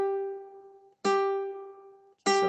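A single ukulele string, the fourth, is plucked downward with the soft side of the thumb, three separate notes each ringing out and decaying, close and clean with short silent gaps between them.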